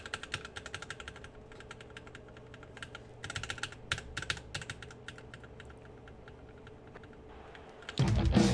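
Computer keyboard typing used as a Rock Band 2 guitar controller in the RPCS3 emulator, fast irregular key clacks in bursts over a low hum, with a louder rumbling noise entering at the end.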